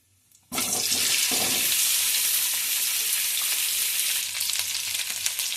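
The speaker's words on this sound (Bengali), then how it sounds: "দেখুন বন্ধুরা, আলুটা ভাজা হচ্ছে।" Hot oil erupts into a loud, steady sizzle after a brief quiet start, crackling continuously as potatoes for dum aloo fry in a kadai.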